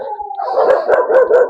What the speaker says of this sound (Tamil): ஒட்டுமொத்த நாய் இங்க கத்த ஆரம்பிச்சிருச்சு.